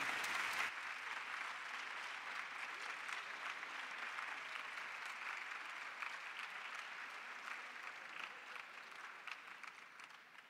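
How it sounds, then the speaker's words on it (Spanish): Audience applause welcoming a musician at a university honorary doctorate ceremony, a long, steady wash of clapping that holds evenly and eases slightly toward the end. "Lo recibimos, por favor, con un muy fuerte aplauso."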